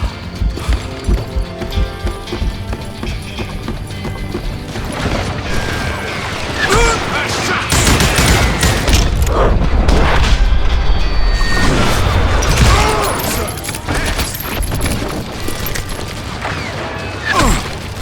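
Gunfire in the Western shooter game Call of Juarez Gunslinger: loud, sharp bursts and booming impacts pile up through the middle of the stretch, with rattling mechanical clicks and shouted dialogue around them.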